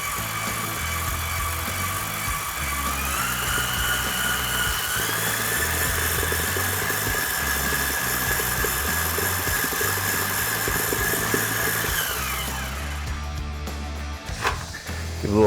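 A stand mixer runs at higher speed beating blue cheese frosting, a sustained motor whine that rises in pitch a few seconds in, holds steady, then winds down near the end.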